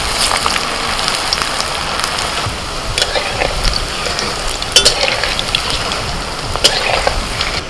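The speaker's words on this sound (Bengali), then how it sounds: "তেল গরম হয়ে গেছে, এবার এই একটা একটা করে বলগুলোকে ভেজে নেব।" Gourd balls deep-frying in hot oil over a medium flame give a steady, dense sizzle with crackling spatters and a few louder pops, close and continuous, with no talking.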